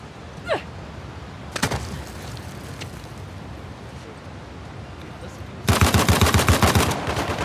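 Gunfire in Uncharted: The Lost Legacy, a couple of isolated sharp shots early on, then a loud rapid burst of repeated cracks near the end, with faint background ambience between.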